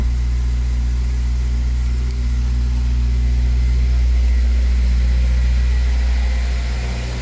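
A K-swapped Honda Jazz engine idles steadily and loudly up close, a deep constant rumble with a slight swell in the middle and no talking over it.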